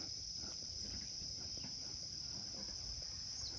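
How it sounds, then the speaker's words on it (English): Honeybees fanning inside a hive after the entrance is smoked, heard as a steady, faint, high-pitched hum with soft rustling underneath, continuous and close. "I can already hear them fanning."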